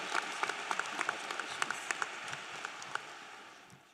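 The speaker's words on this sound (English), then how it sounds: "Let's give a round of applause for our salutatorian, Shreyas." Audience applause at a high school graduation ceremony for the salutatorian: a steady, fairly faint wash of many hands clapping with scattered sharper claps, gradually tapering off toward the end.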